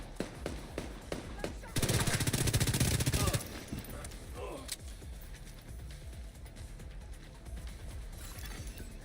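Rapid automatic gunfire in a shooter video game, a loud dense burst of shots in the early seconds, then quieter scattered action sounds under a voice.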